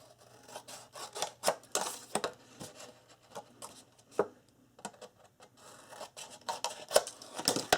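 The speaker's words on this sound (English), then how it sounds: "I'm just going to eyeball it and cut across about 1/8 of an inch from the tip." Scissors snip across a piece of chipboard near its tip, a string of quiet, close crunching cuts in uneven bursts with soft handling rustle between them.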